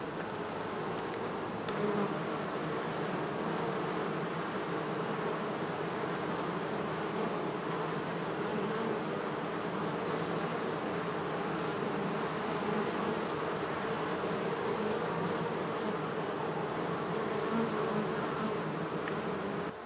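Honeybees from a colony recently cut out of a column swarm around their hive. They make a dense, continuous buzz that stays steady and close throughout.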